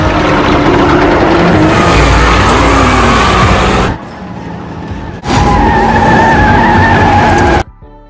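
Dodge Scat Pack 392 doing a burnout: loud, close tire squeal and roaring engine in two long bursts split by a brief near-silent pause, ending abruptly.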